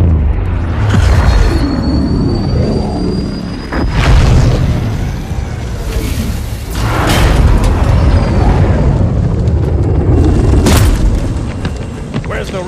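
Rocket explosions in a Halo 2 Anniversary video game cutscene, loud booming blasts that recur every few seconds over a continuous low rumble and battle noise.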